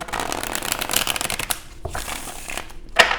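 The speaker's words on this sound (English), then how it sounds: "let's go ahead and do one shuffle here" Tarot cards being shuffled by hand, a steady riffling and rustling close up, with a sharper snap of the deck near the end and no talk.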